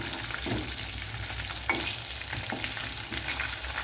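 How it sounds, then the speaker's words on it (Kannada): Prawns deep frying in hot oil, a steady close crackling sizzle with occasional stirring taps throughout. "ಇದೇ ಥರ ಡೀಪ್ ಫ್ರೈ ಮಾಡೋದು."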